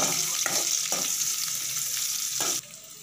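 Sliced large onions sautéing in a pan for a potato kurma, a continuous bright sizzle with a few scraping stirs of a spatula, close and fairly loud, dropping off abruptly near the end.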